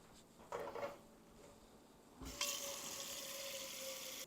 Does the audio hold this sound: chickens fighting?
no